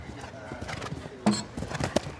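A horse gallops down a hill on a cross-country eventing course toward a large oxer, the hoofbeats a rapid drumming under commentary, with a heavier thump as it meets the fence.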